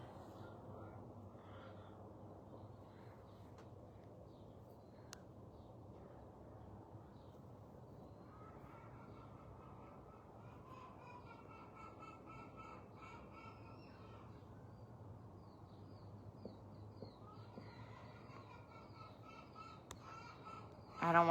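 Crows cawing from a tree covered in birds, a continuous chorus of harsh caws at moderate distance over low outdoor background rumble.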